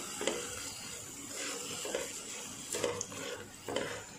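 Chapati noodles with sauce are stir-fried in a pan, a soft low sizzle broken by several scraping, clattering stirs of a utensil against the pan, close and fairly quiet with no voices.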